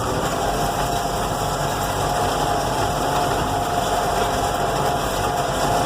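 A tractor engine running steadily at about 1500 RPM while drilling soybeans in a field, a close, continuous drone with a low rumble and vibration and no change in pitch throughout.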